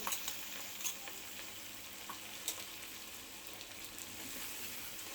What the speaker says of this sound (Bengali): তেলটা যে গরম হয়ে গেছে, এর মধ্যে কাঁচা লঙ্কা আছে, আমি কাঁচা লঙ্কাটা আগে দিয়ে দেবো।